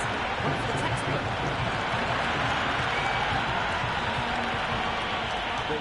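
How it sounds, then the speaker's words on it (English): Steady, noisy crowd roar from spectators at a cricket ground in a video game, a dense wash of cheering and applause that stays loud and even throughout with no break. "the crowd have joined the party. It's pretty noisy at the ground."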